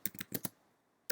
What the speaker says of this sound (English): we're going to type IP address